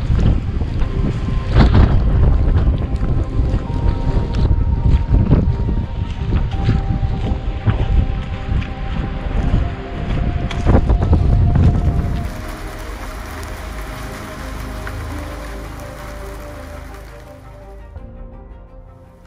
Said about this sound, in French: Il y a de la pluie à peu près sans discontinuer, du vent.